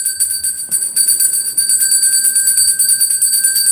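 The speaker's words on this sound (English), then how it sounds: "I'm going to ring that bell again." A hand bell rung during a tarot card reading, its bright metallic tones sustaining steadily and ringing on through the whole stretch, with no one speaking.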